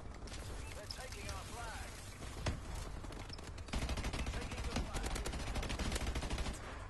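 Rapid gunfire bursts in the video game Elite Guns, fairly dense and continuous, growing louder in the second half, with a player's voice talking over the shooting.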